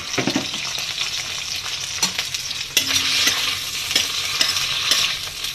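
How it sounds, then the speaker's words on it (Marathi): Paneer sizzles and spatters in hot oil in a kadhai while being stir-fried for paneer thecha, with a steady loud crackle and occasional scraping stirs, no voices. "आता त्या पनीरला आपण फ्राय करूया आणि हा वाटप त्याच्यात टाकून रेडी करूया"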